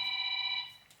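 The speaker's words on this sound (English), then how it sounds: "That's my phone, I'll get it soon." A phone rings with a steady electronic tone lasting most of a second, then cuts off, fairly close and alone with no talk.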